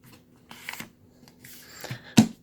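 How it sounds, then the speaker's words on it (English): A paper greeting card is folded by hand, giving a few short, close rustles and crisp creasing scrapes separated by quiet gaps, with one sharper crease near the end. "You just fold the center. And then do another fold."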